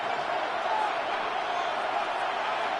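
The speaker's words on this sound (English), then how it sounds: "This crowd into it now as we get to third down." A football stadium crowd roars on third down, a broad, steady wall of distant cheering and murmur that holds at an even level throughout.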